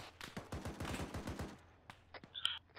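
Rapid bursts of automatic gunfire rattle in a quick string, then trail off into a few scattered, fainter shots and clanks at a distance.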